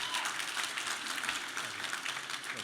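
Audience clapping at a live comedy-panel show, a steady dense patter of many hands filling the room for a few seconds with no talk over it.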